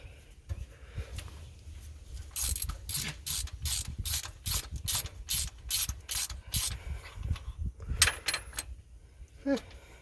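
A ratchet clicks in quick, repeated strokes as it turns a spark plug socket on a 1947 Ford Super Deluxe engine, a close series of sharp ratcheting bursts with short pauses between them.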